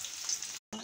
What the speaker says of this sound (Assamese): এতিয়া মই কটা হোৱা পিঁয়াজখিনি দি দিম